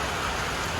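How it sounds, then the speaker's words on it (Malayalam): Heavy rain drums across a road in a brief, continuous hiss of steady downpour, close and even, with no voices. "റോഡ് മുഴുവൻ നല്ല മഴയാണ് ഗൈസ്."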